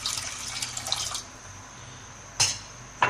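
About a cup of water is poured into a pot to make sugar syrup for imarti, giving a steady splashing pour that fades, then a couple of brief splashes or knocks near the end.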